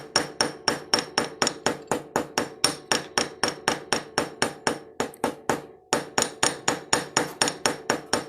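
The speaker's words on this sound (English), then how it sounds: "you only have to hammer one side" A hammer strikes a fine silver chain link while a hand-wrought necklace is being made, a rapid, even run of close, crisp metallic blows at about three per second with one short pause partway through.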